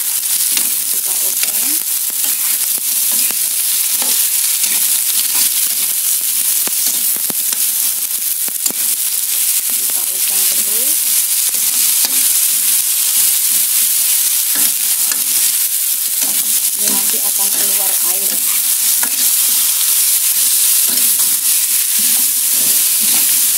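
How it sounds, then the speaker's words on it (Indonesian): Cucumber pieces fry in oyster sauce in a hot pan, with a constant loud sizzle and hiss. Occasional scrapes and stirring clinks break through, and a voice speaks faintly underneath. "Setelah itu masukkan pula seluruh dari mentimunnya."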